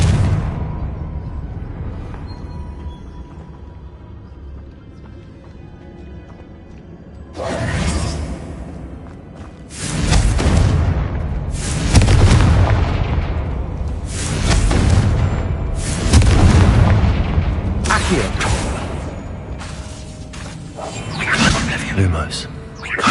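Confringo blasting spells exploding in a Harry Potter video game, a string of loud booming whooshes and thuds that come in repeated bursts after a quieter opening.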